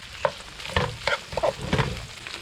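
Shrimp are stir-fried in butter and garlic in a pan at a rainy campsite breakfast, with a soft sizzle under several rhythmic scraping stirs heard close by.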